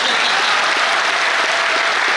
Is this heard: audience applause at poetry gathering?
yes